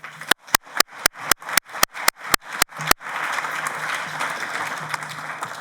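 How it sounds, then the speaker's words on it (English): A conference audience applauds a panel steadily, a dense patter of clapping that holds at an even level without fading. "Maybe you join me in giving them a round of applause."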